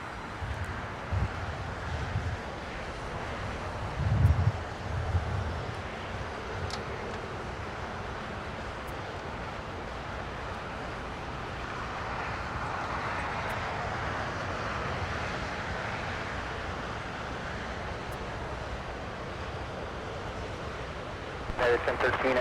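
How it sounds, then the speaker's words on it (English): An EVA Air airliner takes off from runway 25 right at LAX, a steady distant roar of jet engines that swells and rumbles on for many seconds amid wind noise, with a voice briefly heard early on. "Eva blasting off 25 right for Taipei."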